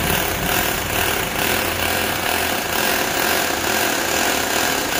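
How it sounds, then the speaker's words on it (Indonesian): A power polishing tool runs against a stainless steel railing during installation, giving a steady, loud, continuous grinding whir with a gritty buzzing texture and no pauses. "kita satukan dengan bagian alat polesnya, kemudian kita sentuhkan pada bagian stainless yang akan kita poles"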